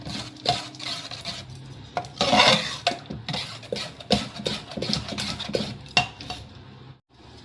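A spoon stirs cooked dal in a metal pot, giving repeated scraping and clinking strokes in an uneven rhythm, close and moderately loud, with a brief pause near the end and no talking.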